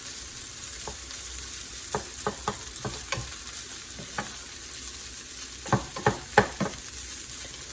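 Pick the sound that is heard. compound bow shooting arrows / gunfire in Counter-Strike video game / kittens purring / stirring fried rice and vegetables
stirring fried rice and vegetables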